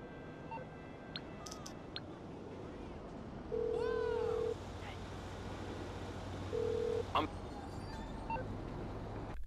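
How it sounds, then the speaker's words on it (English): In GTA 5, a phone dials a cab with two steady electronic ringback tones, each about a second long and a few seconds apart, over quiet game ambience with brief beeps. "bring up the call on your phone, listen to the dial"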